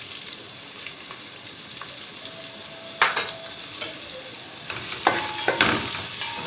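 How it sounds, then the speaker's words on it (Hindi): Two medium onions fry in a small amount of oil in a pot over medium heat, giving a steady, close sizzle with occasional stirring clinks and scrapes, with no talking. "2 मीडियम प्याज है, इसको फ्राई करना है।"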